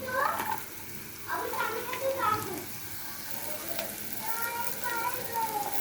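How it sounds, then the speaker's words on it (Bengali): Chopped onions and nuts fry lightly in a pan, giving a steady sizzle close by. A voice seems to talk over it in places. "এখানে পেঁয়াজটা আর বাদামটা আমার হালকা ভাজা হয়ে গিয়েছে।"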